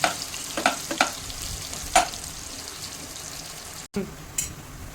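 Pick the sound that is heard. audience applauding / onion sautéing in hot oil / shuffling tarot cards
onion sautéing in hot oil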